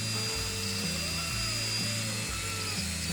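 Power drill fitted with a clean bit coring out a jalapeno, motor whirring loud and close with rising and falling pitch as it is rolled around inside the pepper, no talk.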